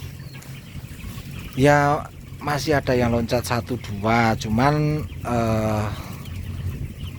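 Chickens cluck and squawk in a raised-rack coop, several loud calls close by in bursts, while someone talks over them.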